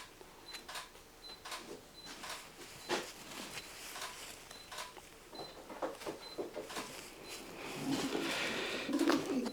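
Soft cooing from a racing pigeon repeats intermittently against a busy background of light clicks and rustling, with the coos fairly close and moderately quiet.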